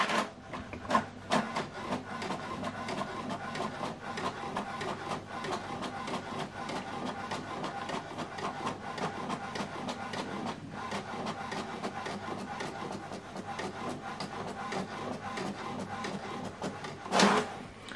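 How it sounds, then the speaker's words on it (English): An HP DeskJet 4200e printer runs a manual double-sided print job, giving a steady mechanical whirring and rubbing drone with rapid ticks throughout and a louder clunk near the end. "This is the document we scanned and printed it out, double-sided manual."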